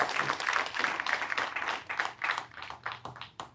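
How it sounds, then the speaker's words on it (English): Clapping from the crowd at the Common Man's Party official launch, uneven and pulsing in waves, with rhythmic bursts of hand claps rising and falling over a few seconds. "You could clap for yourself."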